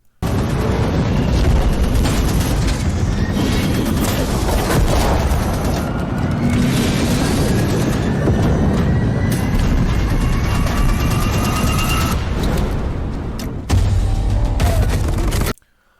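Loud, sustained battle sounds in a trailer for the video game Marauders: heavy explosions and booming blasts mixed with bursts of real-world firearms, a dense wall of noise running nearly throughout before cutting off abruptly.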